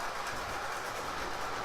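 O-gauge model train running on track, a continuous steady rumble and faint clickety-clack rolling, fairly quiet and even throughout with no talk.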